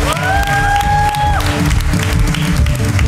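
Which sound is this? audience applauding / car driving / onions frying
audience applauding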